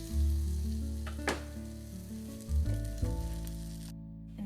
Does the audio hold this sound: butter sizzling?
yes